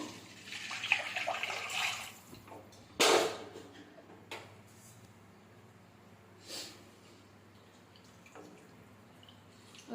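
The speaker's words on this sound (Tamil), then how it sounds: "இது கூட கரைச்சி வச்ச புளி தண்ணி ஊற்றிக்குவோம்." Tamarind water poured into a pan for horse gram rasam with a soft rushing splash, then a sharp sizzle burst and scattered clinks and stirring noises.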